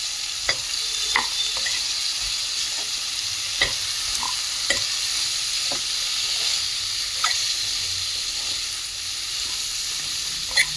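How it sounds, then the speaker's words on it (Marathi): Papdi vegetable curry sizzles steadily in a pan while a spoon stirs it, with sharp scraping clinks every second or so over the constant close frying hiss. "हे आधी सगळं हलवून घेऊया. पापडी, टाकून घ्यायची."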